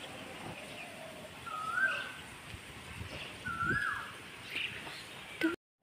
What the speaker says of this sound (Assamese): কুলিৰ মাত শুনিলেনে?